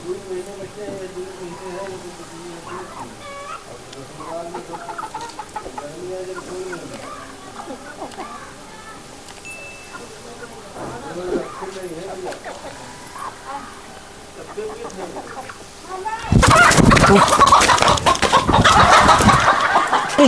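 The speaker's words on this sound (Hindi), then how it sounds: "ये तो मुर्गा है" A rooster clucks in repeated bursts amid people talking in a village setting, and the clip ends in a loud, harsh burst of noise.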